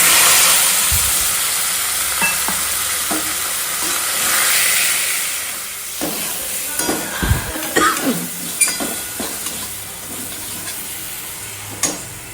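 Onion-cumin paste with chilli, turmeric, salt and sugar frying in a pan, a steady close sizzle and hiss with repeated spatula scrapes and clacks against the pan, growing more frequent toward the end.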